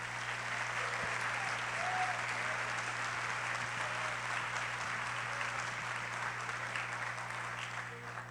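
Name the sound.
church congregation applauding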